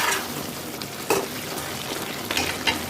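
Liver and gundige being mixed in a pan, a low simmering sizzle with a few scraping spoon strokes and light clinks, close and alone without talk.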